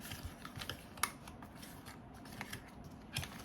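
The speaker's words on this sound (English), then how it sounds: "I'm gonna fold this on the scored lines and fold it up on the sides as well" Cardstock is folded along scored lines to form a small diorama box. Close, quiet papery creases and soft clicks come in scattered bursts, with no one talking.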